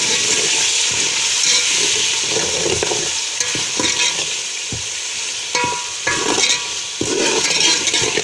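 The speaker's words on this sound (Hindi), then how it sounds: "और इसको साथ साथ हम भूनते जाएंगे।" Masala for degi-style aloo gosht sizzling and frying in a pot after a splash of water, loud continuous crackle with scraping strokes of a spoon stirring it, close up and without talk.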